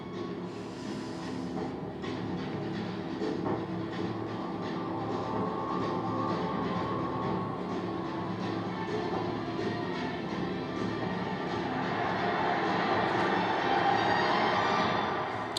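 A train rumbles past with a steady, loud roar and faint rhythmic rail clatter that builds slightly toward the end, with no voices.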